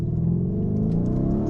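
Steady, close engine rumble from a Lamborghini Urus revving, a deep sustained drone with a slight rising pitch and no gaps.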